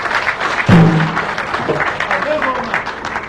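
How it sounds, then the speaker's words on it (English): A crowd claps steadily at a political rally in Makurdi, with the dense applause running throughout under loud voices and calls. "Let us continue to clap for him"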